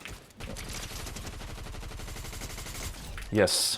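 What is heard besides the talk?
SMG gunfire in a video game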